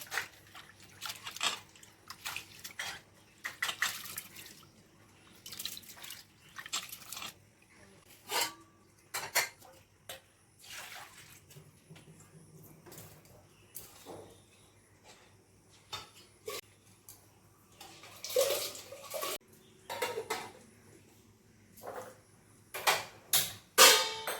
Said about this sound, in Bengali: এখন চাল চাল ধুয়ে নিয়ে বসিয়ে দেবো ভাত